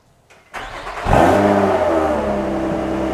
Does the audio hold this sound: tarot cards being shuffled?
no